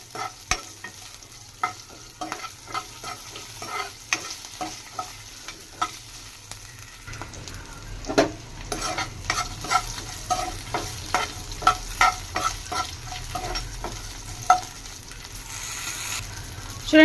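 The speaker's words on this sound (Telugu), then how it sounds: "చూడండి, పచ్చిమిర్చి కూడా ఫ్రై అయిపోయింది." Green chilies fry in oil in a kadai, a steady sizzle punctuated by regular metal spoon taps and scrapes against the pan, close and moderately loud, growing busier toward the end.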